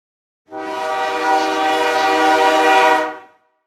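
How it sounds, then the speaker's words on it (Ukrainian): A single long, loud train horn blast sounds for about three seconds alone, starting abruptly and fading off at the end. "Молодці, це звук потягу."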